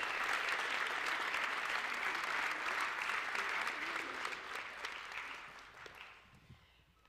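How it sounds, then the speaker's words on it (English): Audience applause for an award recipient at a college athletic fall recognition reception, steady dense clapping from a room of people that holds strong for several seconds, then thins and fades away toward the end. "So we give a round of applause for Kylie."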